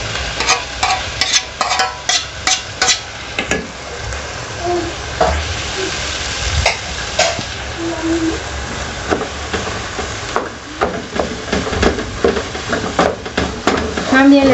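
Ground beef frying in a pan for a lasagna, loud crackling sizzle broken by frequent clattering strokes of a spoon stirring against the pan, close and busy throughout.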